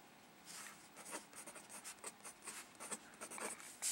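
A pencil scratches across a paper crossword puzzle in quick, close strokes, soft rhythmic scribbling and rubbing heard alone at low volume.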